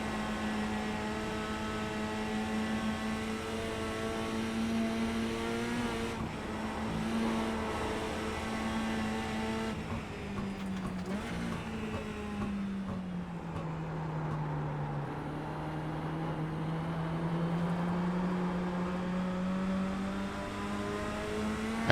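Mini Stock race car engine in the iRacing sim at the Nordschleife, a loud steady drone that climbs and dips in pitch through gear changes and corners, running continuously with no talk.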